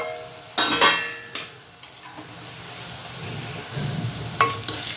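Green leaf curry simmering in a pan gives a soft, close hiss and sizzle, broken by a few sharp clatters of a utensil or lid against the pan.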